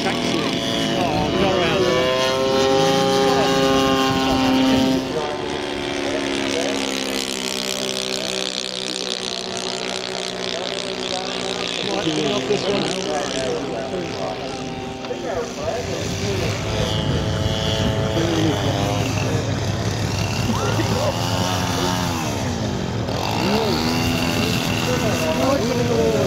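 A radio-controlled WW1 warbird engine taxiing at an RAF Cosford display drones steadily throughout, with shifting whining harmonics as the throttle changes, while people talk close by.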